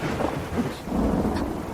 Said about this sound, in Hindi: अब ये क्या यार, तूफान कहाँ से आ गया?